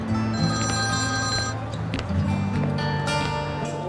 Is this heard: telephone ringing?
yes